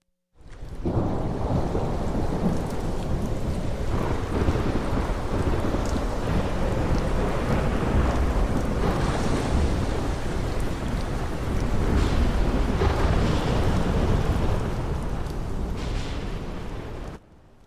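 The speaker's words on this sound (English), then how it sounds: "Does it always rain at Thornfield?" Steady heavy rain with deep rumbling thunder in an audio drama, a dense, continuous storm wash that swells slightly midway and lasts throughout without voices.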